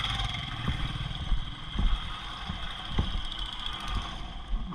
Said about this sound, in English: there's a whole Royal Enfield gang just going to Morbe Dam